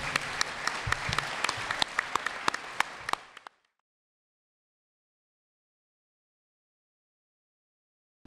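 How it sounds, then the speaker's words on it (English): Audience at a 4th Congressional District forum gives a warm round of applause, close crowd clapping with sharp individual claps that stops abruptly after about three seconds, followed by silence. "And again, we'll give them a warm round of applause."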